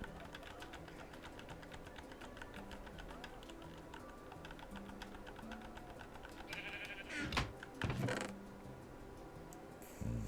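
Bleats from a sheep in Minecraft on a wool farm rise over a steady bed of game music and clicking, loudest near the end of the stretch.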